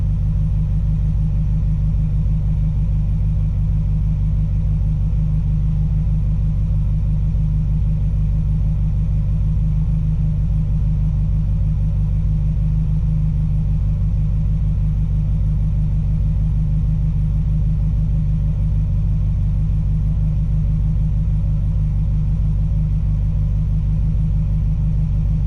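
A classic Ferrari engine idles after a cold start following weeks of sitting, giving a steady, loud low rumble that holds constant with no other sounds.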